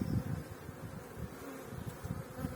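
Honey bees buzz around hive frames during spring colony expansion, a dense, steady low hum close by with no talking.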